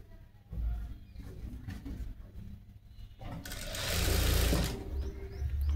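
A sewing machine stitches a rose-collar blouse in a beginner tailoring class, running as a steady mechanical whir with rattling clicks that gets louder and busier in a brief burst near the end.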